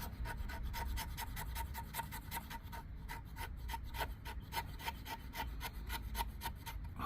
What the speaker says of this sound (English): I'm gonna slice a little off there too. Just put some shavings right in that pile